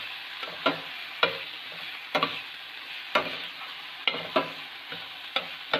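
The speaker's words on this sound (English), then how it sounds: "So we have to fry this onion until it becomes" Chopped onion and fresh curry leaves fry in a hot pan for masala dosa, a bright steady sizzle broken by regular spoon strokes and clacks about once a second, close and without talk.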